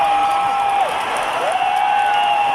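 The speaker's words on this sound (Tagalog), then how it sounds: "Grabe hiyawan po dito." Loud, sustained roar and cheering of a packed arena crowd during a professional basketball finals Game 7 in overtime, a continuous wash of noise with a steady sustained tone running through it.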